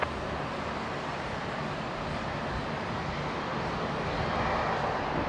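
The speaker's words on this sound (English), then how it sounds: "there's the Jetstar 321 Neo just taxiing by" A Jetstar Airbus A321neo taxiing at Brisbane Airport gives off a steady, moderately distant engine roar and whine, holding an even level throughout with no voices.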